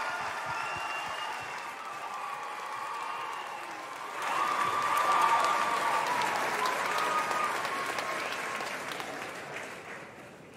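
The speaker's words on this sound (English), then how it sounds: "Round of applause for North House" Audience at a school house music competition applauding a house ensemble, steady clapping that swells louder midway and carries a few faint cheers, continuing without a break.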